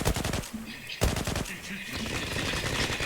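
M4A1 rifle firing in the game Zula, loud close bursts of rapid automatic shots broken by short pauses, then steady fire, while someone talks over it.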